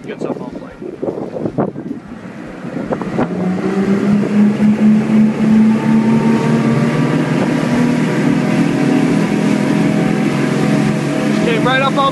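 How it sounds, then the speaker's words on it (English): The engine of a 1997 Venture 34 boat in Key Largo, Florida, throttling up as it rises onto plane, building from a low rumble to a steady, loud droning roar with rising engine pitch and wind buffeting the microphone. "we're going to show you how this boat gets up on plane"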